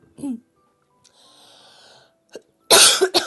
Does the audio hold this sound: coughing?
yes